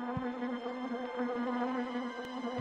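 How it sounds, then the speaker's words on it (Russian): Stinking wasps in The Grinch video game, a continuous droning insect buzz with a steady pitch and slight wavering, close and moderately loud with no speech. "Вонючие осы или кто это тут есть?"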